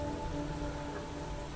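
Rain falling in the sci-fi video game Star Shift Rebellion: a faint, steady patter and hiss of rainfall on surfaces, continuous and even, mixed with a low tonal ambient hum and no voices.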